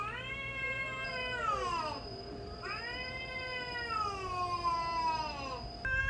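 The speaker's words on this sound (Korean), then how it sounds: "잘 때만 되면 고양이들이 자꾸 싸우는 소리가 들려가지고" Stray cats fight, yowling in long, drawn-out wails on a residential street, rising and falling in two extended cries against a quiet background.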